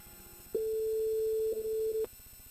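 A steady telephone line tone rings out loud and continuous for about a second and a half while a call is dialed during a radio and TV broadcast, with brief dips near the end.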